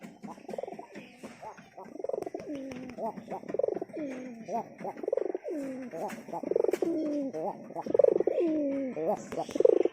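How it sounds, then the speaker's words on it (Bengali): A domestic hunting pigeon coos repeatedly at home, its throaty rolling calls close and clear in an uneven rhythm, joined by a few faint background chirps. "আমার শিকারি পায়রাটা এখানে চলে আসছে"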